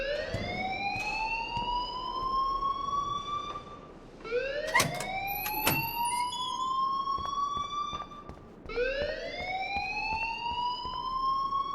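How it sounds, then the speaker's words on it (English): A rising, sweeping electronic alarm in the video game Life is Strange Remastered wails in repeated whoops, each climbing in pitch, loud and continuous with sharp clicks layered in. "please turn off that alarm since that's your job"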